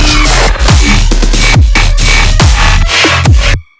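Electronic remix drop with a thumping kick drum pattern repeating in a fast steady rhythm under buzzing synths, loud and dense, cutting off abruptly at the end.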